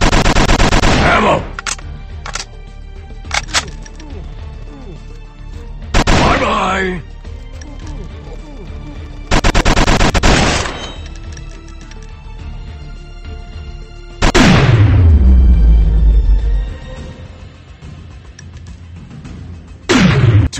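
Gunfire from the mobile FPS game Modern Commando Strike Mission comes in several loud bursts of shots and blasts with pauses between them. Game voice lines are spoken in the gaps.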